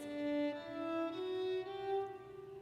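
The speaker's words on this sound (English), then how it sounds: "when I use the mute, it will sound like this." A violin played with a mute gives soft sustained notes with a veiled, dampened tone, stepping gently upward in pitch.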